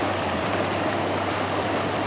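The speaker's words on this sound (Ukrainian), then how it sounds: "Просто постояти, посидіти, послухати гірську річку." A mountain river rushes steadily and close by, a dense, even wash of flowing water with no pauses and no voices.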